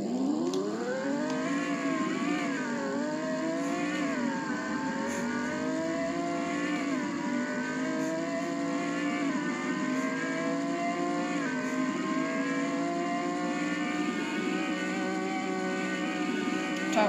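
A car in the Greenville video game accelerates toward its 240 mph top speed, its engine whine climbing steadily through repeated gear shifts, loud and continuous with no talk.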